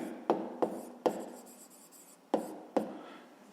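A pen writes numbers on paper for a fifth-grade maths exercise, giving five sharp scratching strokes spaced irregularly, close and fairly quiet, with no talking.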